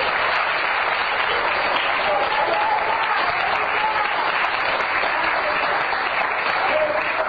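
A church congregation claps together in a sustained, even burst of applause, loud and continuous throughout, with faint voices mixed into the crowd noise.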